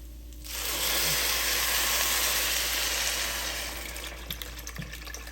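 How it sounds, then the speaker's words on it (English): Soup pours into a cooking pot with a broad, steady rush of liquid that swells quickly, holds for a few seconds, then thins to light bubbling and faint clicks. "So now we're going to add the soup."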